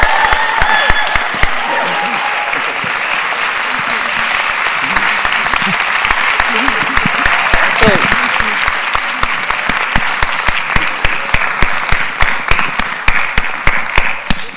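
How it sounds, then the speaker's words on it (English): An audience applauds a four-person panel at a city-themed summit, a dense, loud wash of clapping that holds steady throughout, with individual claps growing sharper and more distinct toward the end. "I could just keep clapping for all four"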